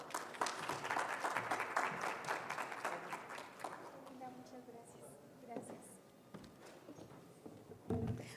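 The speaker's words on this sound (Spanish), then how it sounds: "Por favor, un fuerte aplauso." An audience applauds at a nursing degree event, clapping dense and steady at first, then thinning and fading, with faint voices beneath.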